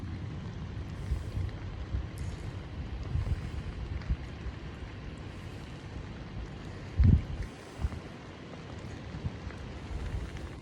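Wind blowing near the Rum Creek wildfire on a hillside above a river, a steady low rushing with gusty buffeting against the microphone and one brief louder thump partway through, no voices.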